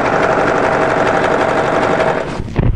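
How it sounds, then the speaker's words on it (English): An overlocker running fast along the raw edge of a short sleeve hem on a draped tee dress, a loud close continuous whirring hum that cuts off near the end with a final mechanical clunk. "I'm just overlocking on the raw edge"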